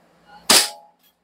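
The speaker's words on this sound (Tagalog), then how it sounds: "So, this is the unit firing." A single sharp airsoft gun shot rings out loud and close, a crisp crack with a brief decaying tail, standing alone in an otherwise quiet moment.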